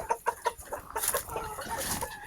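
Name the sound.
Brahma chickens clucking while eager for feed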